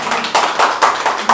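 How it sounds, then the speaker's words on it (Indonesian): A short burst of audience clapping at a magic show, a few sharp, uneven claps rising and fading over about a second, close and moderately loud. "Biasanya dikasih tepuk tangan."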